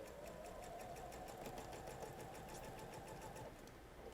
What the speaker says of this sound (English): I'm going to start sewing at the corner of the block.